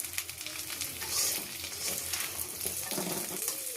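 Frying in a kadai whose contents are being stirred, with a continuous close sizzle broken by scraping and clattering from the stirring. The pan rocks on the stove and no voice is heard.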